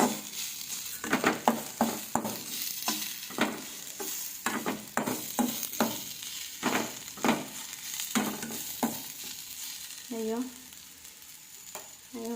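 Chira payesh being stirred in a pan after a cup of sugar is added, giving a string of soft scraping and sizzling strokes that come in irregular bursts, close up and fairly quiet, with no talking.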